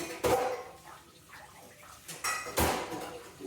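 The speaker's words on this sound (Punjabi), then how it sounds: "ਚਲੋ ਜੀ ਹੁਣ ਮੈਂ ਭਾਂਡੇ ਧੋ ਕੇ" Dishes being washed at home: two loud bursts of clattering pots and utensils, near and close together at the start and again near the end, with quieter scraping and handling in between.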